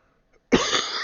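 After a brief silence, a single sharp, close cough bursts out and trails off into a rough, breathy exhale.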